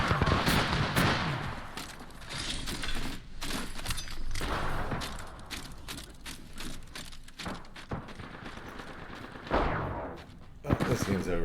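Gunfire in a multiplayer shooter video game rattles in rapid bursts and single shots, loud and dense throughout, with a player talking briefly over the shooting.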